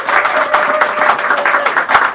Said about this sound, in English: Give him a round of applause just right now.